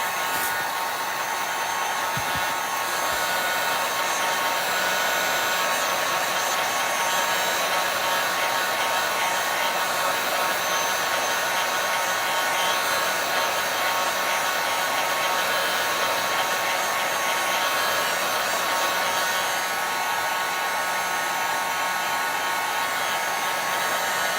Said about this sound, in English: Let's give these guys a little warm air to help them dry.